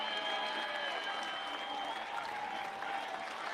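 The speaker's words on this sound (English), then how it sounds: "let this crowd build up a little noise, come to their feet to salute the freshman who gave North Carolina everything he" A college baseball crowd at North Carolina's Chapel Hill super regional applauds a departing freshman pitcher with sustained, dense clapping that holds steady and loud, with faint cheers mixed in.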